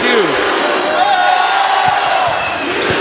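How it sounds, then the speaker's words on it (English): Crowd cheering and shouting at a men's volleyball midnight game between Liberty and Virginia Tech, a loud sustained roar filling the gym, with ball thumps and a voice rising over the noise. "There's the crowd."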